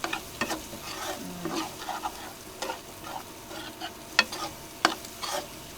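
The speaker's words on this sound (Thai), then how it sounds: "ผัดนะคะผัดให้หอม ผัดให้สุกความร้อน" Sausage and fish balls with garlic stir-fried in a wok, a steady hot sizzle broken by repeated scraping and clanking of the spatula against the metal, close up with no talking.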